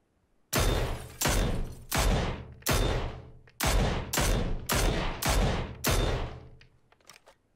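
Mini gunfire in the video game PUBG: about ten sharp, loud shots in a fairly quick, slightly uneven rhythm, each with a short ringing tail, then quieter distant pops at the end.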